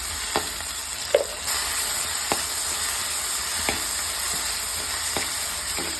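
Steady frying sizzle of shallots or onions sautéing in hot oil for a Kerala kilimeen fish curry, with a spoon stirring the pan in occasional sharp scrapes and taps over a continuous close hiss.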